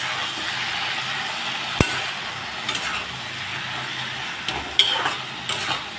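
Tomato spice paste goes into a pan of frying vegetables and shrimp, bringing a steady soft sizzle broken by a few sharp clinks of a spoon against the pan, with no voices.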